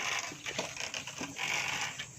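Knapsack sprayer pumped in a rice field to spray against rice hoppers, a steady run of rhythmic mechanical clicks and creaks from the pump lever, fairly close and continuous with no talk.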